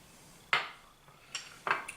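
A spice rub of ground pepper, garlic powder and chili powder is mixed in a bowl, giving three sharp utensil clinks against the dish, spaced apart in quiet surroundings.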